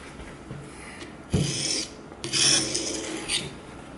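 A knife blade scrapes along the fine side of an oiled sharpening stone in a few distinct strokes, each a close, gritty rasp with short pauses between them, and no one speaking.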